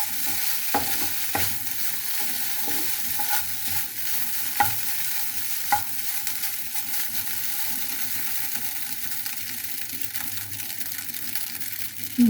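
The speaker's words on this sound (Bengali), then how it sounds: "ভাত ভাজাটা এইভাবে ভেজে দিলে ও খেতে খুবই পছন্দ করে, তাই আমি এখন এইভাবে ভেজে দিচ্ছি" Rice fries in a pan while being stirred: a soft, steady sizzle broken by scraping strokes and a few sharper clinks of the utensil, fairly quiet, with no talk.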